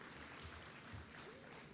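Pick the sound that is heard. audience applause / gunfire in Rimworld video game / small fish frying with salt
audience applause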